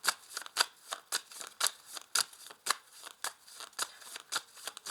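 Lenormand cards shuffled in a steady run of crisp riffling bursts, about two per second, close and fairly quiet with no talk.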